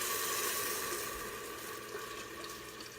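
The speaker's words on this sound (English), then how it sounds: "I have 4 cups of unsalted chicken broth here that I'm going to pour in" Unsalted chicken broth poured into a soup pot for a sweet potato and rosemary soup, a steady, fairly loud liquid rush and splash lasting a few seconds with no talk.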